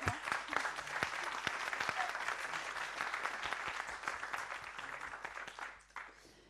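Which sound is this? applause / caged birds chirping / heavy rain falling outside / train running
applause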